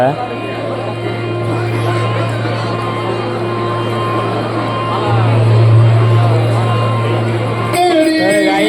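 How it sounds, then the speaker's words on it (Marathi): Large festival crowd at the Raskrida celebration, a steady outdoor hubbub of many voices with a constant low drone, while someone talks over it close to the microphone. "गर्दी देखा आडमाप गर्दी व्हाय राहिने"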